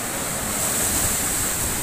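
Strong waves pound during Typhoon Odette, a loud, continuous roar of surf and wind buffeting the microphone, with no voices.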